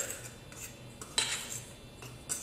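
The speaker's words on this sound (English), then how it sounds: "we're going to just mix that all together" A spoon stirs dinner roll ingredients with orange in a bowl, making soft, faint scrapes and a few sharper clinks against the bowl at an irregular pace.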